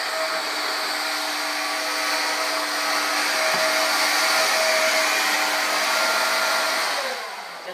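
A Hoover Air cordless vacuum cleaner runs steadily with a high whining motor hum and airy rush, close and constant, briefly shifting pitch midway before winding down at the end.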